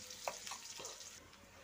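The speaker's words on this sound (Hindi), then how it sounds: "इसको तो ऑनियन को हल्का भूनना है हमें" Chopped onions lightly frying in a pan, a faint, close sizzle with a few soft spatula scrapes and stirring knocks, no voices.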